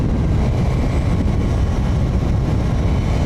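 A Suzuki GSX-S1000 naked motorcycle with the 2005 GSX-R1000 K5 engine idles while warming up, a steady, loud, low rumble with an even drone and no pauses or voices over it.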